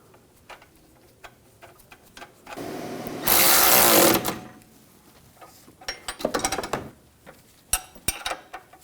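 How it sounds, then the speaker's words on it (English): Wrench tightening a front lower control arm nut on a 2004-2009 Audi A4 Quattro: scattered close metallic ratchet clicks around a burst of louder tool noise, then more sharp clicks. "Then I'm going to torque this to 30 foot-pounds"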